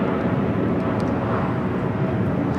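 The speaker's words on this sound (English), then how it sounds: "a 787-10 Dreamliner" A KLM Boeing 787-10 Dreamliner on arrival from Amsterdam at LAX gives off a loud, close, unbroken jet engine roar that fills the short stretch on its own.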